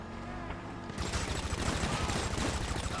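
Gunfire in a heist video game erupts as a dense crackling fusillade of rapid shots, starting about a second in and continuing to the end, mid-distance and fairly loud.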